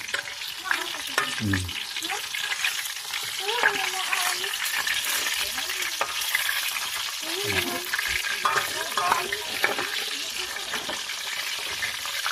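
Chicken feet and breast frying in oil, a continuous crackling sizzle close to the microphone, with a voice talking softly beneath it now and then.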